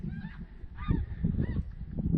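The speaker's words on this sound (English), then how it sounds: "Snow geese heading to warmer climes." Snow geese honk repeatedly overhead, a layered chorus of nasal calls over a steady low rumble, moderately loud and continuous.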